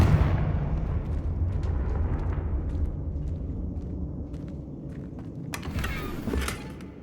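A Confringo fire spell explodes in Hogwarts Legacy: a loud, deep blast at onset that decays into a rumbling roar, followed by scattered crackles and a brighter burst toward the end.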